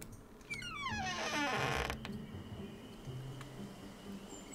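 A door creaks in the video game Stranded Sails, a single drawn-out squeaky creak with rapidly pitched squeals lasting about a second, fairly quiet and alone against a soft background.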